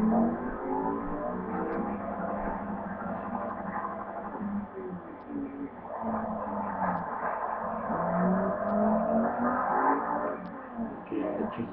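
A manual-clutch Lamborghini Gallardo in the racing game Forza Motorsport 3 drones and revs steadily, its engine note rising and falling through shifts, fairly loud and continuous with no talk.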